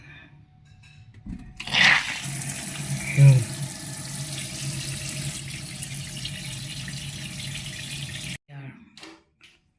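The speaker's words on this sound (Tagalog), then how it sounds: "Yung gripo naman dito, buksan natin." A faucet is turned on and water gushes steadily into a sink for several seconds, then shuts off abruptly; a voice speaks briefly beforehand.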